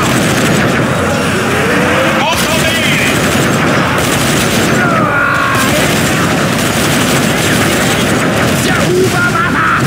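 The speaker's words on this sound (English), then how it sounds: "Homing missiles incoming. Shoot them down." Dense, loud gunfire aimed at incoming homing missiles in the video game Zombie Army 4: Dead War, continuous rapid shots and booms forming an unbroken wall of noise throughout.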